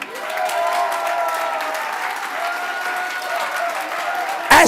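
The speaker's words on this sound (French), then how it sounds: "Est-ce que quelqu'un peut donner une offrande d'acclamation?" A church congregation bursts into sustained applause, a dense even wash of clapping that holds steady for several seconds before breaking off abruptly into a louder, harsher sound at the very end.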